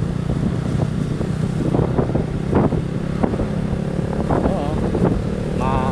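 Strong wind roars and buffets against the microphone during a long motorcycle ride from Antipolo to Albay in Bicol. Road noise rumbles beneath it, and a brief voice comes through.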